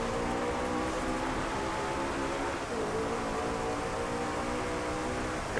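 Steady rain pours down during a race in the Driveclub racing video game, a dense even hiss with a faint low engine hum beneath, unbroken throughout.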